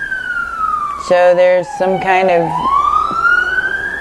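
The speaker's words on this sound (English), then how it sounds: "forgive the sirens, but we are in Hollywood" A wailing siren sweeps up and down in pitch nearby on a Hollywood street, with a person talking over it partway through.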